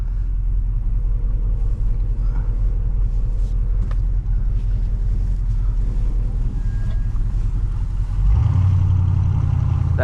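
A 1978 GMC Sierra Classic truck engine rumbles low and steady while driving, close and loud, then swells into a deeper, heavier roar near the end as the throttle opens.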